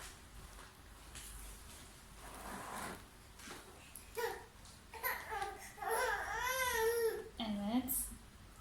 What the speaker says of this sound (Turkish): gördüğünüz gibi bebeğin de sesini duydunuz